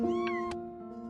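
A cat meows in the video game Before Your Eyes, a single clear, fairly loud drawn-out meow with a short rising yelp, heard alone.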